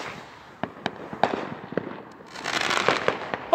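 A firework rocket sold as a fountain launches and bursts outdoors, with a string of sharp pops and crackles and a rising hiss near the end, moderately loud.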